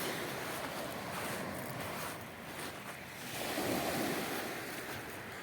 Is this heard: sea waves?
yes